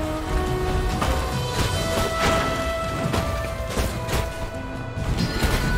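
Boss in the game Death's Door pounding the ground with repeated heavy smashing impacts in the Ceramic Manor, loud and dense crashes layered over game music.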